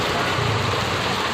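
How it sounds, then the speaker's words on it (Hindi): Heavy rain pours down in a dense, steady hiss, loud and unbroken throughout. "बारिश देखो कितनी तेज हो रही है।"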